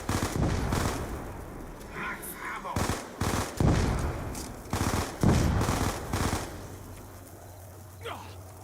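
Automatic gunfire in a Call of Duty match on the Nuketown map, loud sustained bursts broken by short gaps, with players talking over the shooting.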